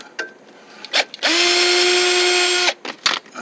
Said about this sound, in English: I'll use my drill.